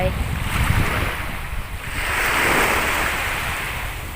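Ocean waves wash and crash in a broad roar on the beach at Bang Saen in the morning, one surge building and lingering, with wind buffeting the microphone.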